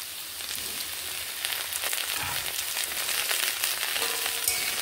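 Potatoes, onions and tomatoes frying together in a pan for an egg dish, giving a steady, dense sizzle with faint stirring scrapes throughout, close and fairly loud with no voices.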